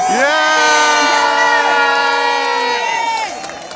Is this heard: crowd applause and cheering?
yes